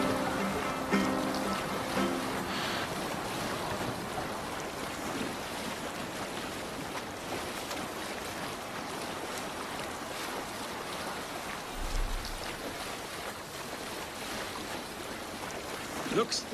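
Viking longship sailing across open sea in Assassin's Creed Valhalla, with steady wash of waves and wind rushing past, a continuous broad roar and occasional low thumps as the hull meets swells.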